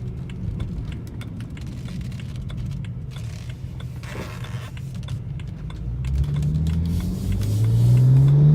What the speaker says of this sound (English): I'll give it a little bit of throttle so you can hear the blow-off valve, and you can hear it, hear the exhaust noise